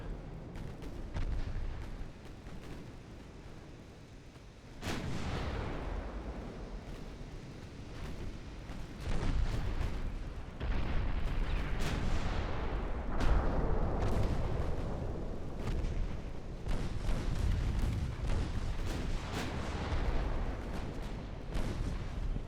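Heavy 7-inch naval guns fire armor-piercing shells in Ultimate Admiral Dreadnoughts, with deep booming reports at irregular intervals, each followed by a long rumbling decay. Quiet and distant, with no voices.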